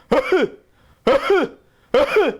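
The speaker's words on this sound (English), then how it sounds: "that's the typical barking cough of these two medicines." Three harsh, barking coughs spaced about a second apart, each a rough double burst, close and loud with quiet gaps between.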